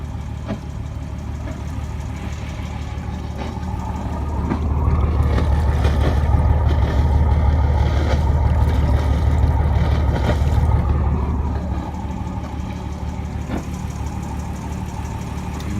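A 120hp Ford Lehman diesel boat engine with a Borg Warner 2:1 gearbox runs in a steady low rumble, swelling louder for several seconds in the middle before settling back to an even idle.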